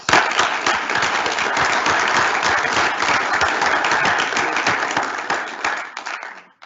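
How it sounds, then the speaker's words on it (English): A summit audience gives a round of applause for the speakers coming up, a sustained crowd of clapping hands, loud and even, tapering off in the last second. "Let's give them a round of applause"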